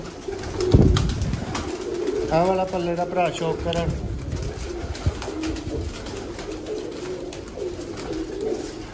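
Golden pigeons for sale cooing in a short rolling burst in the middle, close by, while someone talks over them.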